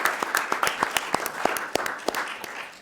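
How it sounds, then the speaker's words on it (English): A board of directors meeting audience gives a sparse round of applause, with distinct individual claps rising and fading across the room, fairly close and without talk over them. "Another round of applause."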